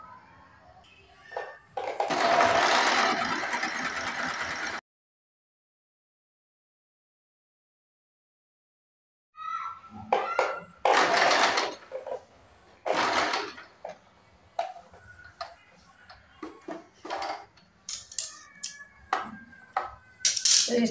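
A sewing machine runs close up, stitching a straight seam along a folded half-inch edge of a blouse waistband: a long whirring run, a silent pause, then several shorter bursts of stitching with small handling clicks between them.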